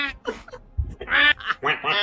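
Bursts of nasal quacking blasts from a blown duck call, several uneven honks, loud and close, with a short low thump between them.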